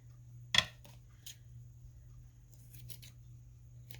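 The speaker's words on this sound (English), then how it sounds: "I'm going to trim this down a little bit." Scissors snip once, sharp and close, trimming a beaded paper clip dangle, followed by a few fainter handling clicks.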